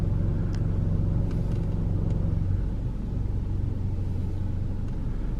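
Cars drive through a fast-flowing stream on Savai'i, Samoa, heard as a steady, loud rush of water and low engine rumble without a break, fairly close.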